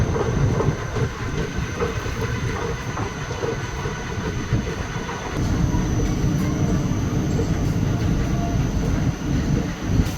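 The Maa Tara Express runs on the Rampurhat–Sealdah line, a loud, close, continuous rumble of a moving passenger train with steady wheel clatter that grows heavier partway through.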